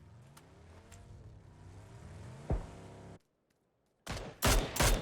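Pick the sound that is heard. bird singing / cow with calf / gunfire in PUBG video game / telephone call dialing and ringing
gunfire in PUBG video game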